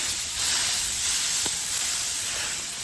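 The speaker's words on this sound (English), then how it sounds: "we're gonna let that fry down" A smash burger fries on a Blackstone griddle at a campground, its steady, bright sizzle hissing loud and close with a faint clink partway through, and no talking.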